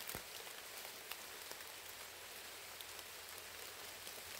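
Steady rain hisses over a surface, constant and even, with occasional louder drops tapping nearby.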